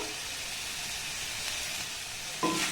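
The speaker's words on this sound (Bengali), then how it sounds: "চাট মশলা দিয়ে এটাকে আমি আর একবার নাড়াচাড়া করে নেব" Vegetables tossed with chaat masala in a hot pan give a continuous, even sizzle up close, ending with a brief louder clank of the utensil against the pan, and no voices.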